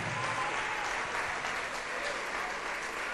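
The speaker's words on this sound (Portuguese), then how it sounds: "Então vem e vamos aplaudir ao Senhor Jesus por cada vida que está chegando." A church congregation applauds together in steady, dense clapping that holds for about three seconds, full and even, with a faint murmur of voices underneath.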